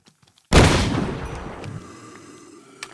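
One loud, sharp gunshot from a Scorched Guns 2 Minecraft mod gun cracks out after a short near-silence and then fades in a long decaying tail, with a small click just at the end.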